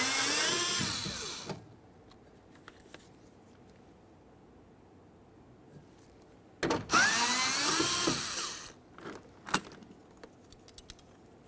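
A power tool whirs as it backs out 10mm bolts from the driver door of a 2004-2006 Scion xB during window regulator work, two loud bursts of a couple of seconds each separated by quiet, followed by a few clicks and clanks.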